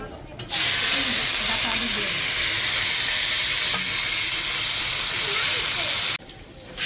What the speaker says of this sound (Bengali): তেলটা গরম হয়ে গেছে গোটা জিরা দিয়ে দিলাম